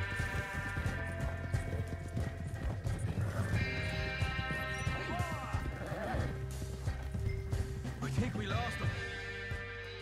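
A horse gallops with rapid clip-clop hoofbeats in Red Dead Redemption 2, broken by loud neighs and whinnies, all set against dense game ambience and music, with someone talking over it.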